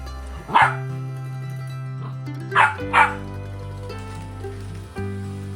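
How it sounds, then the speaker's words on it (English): A West Highland terrier puppy on a narrowboat on the River Thames lets out three short, sharp yappy barks, two close together, over a steady low mechanical hum. "we meet this gorgeous little Westie puppy, Jasper."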